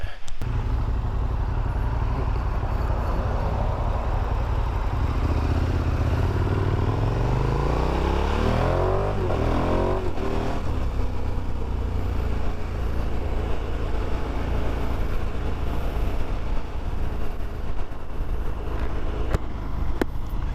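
A 2016 KTM 1290 Super Adventure motorcycle on the road, engine droning steadily under constant wind rush, with a rising then falling pitch sweep midway as it accelerates and shifts, loud and close throughout.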